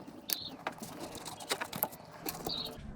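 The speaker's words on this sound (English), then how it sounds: "Removing the nut." A nut comes off the upper strut mount of a 2014 Toyota Sienna, heard as quiet, close metallic clicks and ratcheting taps with scraping, scattered irregularly throughout.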